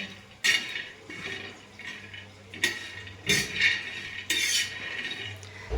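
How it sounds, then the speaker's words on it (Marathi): Peanuts dry-roasting on a tawa, with several sharp bursts of rattling and scraping as they are stirred against the hot metal, separated by quieter stretches with low background hum. "याच तव्यावर आपण हे शेंगदाणे छान असे भाजून घेणार आहोत"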